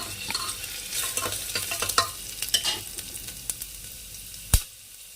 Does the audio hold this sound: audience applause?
no